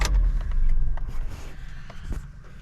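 Toyota Corolla LPG-converted engine idling cold at slightly raised RPM, a low, steady rumble close by, with small clicks and rattles scattered over it.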